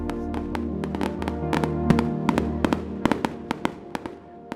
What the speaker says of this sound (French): on entendit sortir d'épouvantables coups de pétard et d'où l'on vit s'élancer en l'air des fusées de toutes sortes de figures